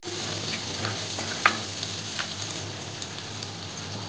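Sweet corn is stirred into a betel-leaf biryani base sizzling in a pan, giving a steady, close hiss of frying with a few faint scrapes and one brief knock.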